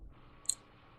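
A single faint, crisp mouse click, brief and isolated against a quiet background hum.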